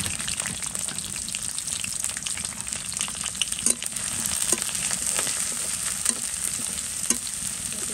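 Chopped onion and chili fry in a pan with a continuous loud sizzle, broken by a few sharp stirring clacks.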